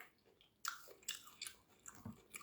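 Crisp bites and crunches of crunchy food, several sharp close-up snaps spaced irregularly, quiet and alone without talk.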